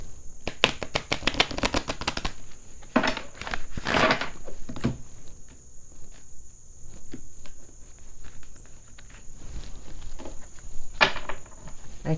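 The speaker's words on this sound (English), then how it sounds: "One more shuffle." Tarot cards are shuffled close up in quick bursts of dry riffling and patter with short pauses between them. A steady high insect-like whine runs underneath throughout.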